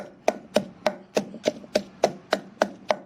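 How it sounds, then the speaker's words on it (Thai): Kaffir lime leaves pounded in a mortar: eleven evenly spaced, sharp wooden thuds of the pestle, close and steady at roughly three per second, with nothing else heard. "ใบมะกรูด ก็ใส่เข้าไปตำด้วยนะครับ"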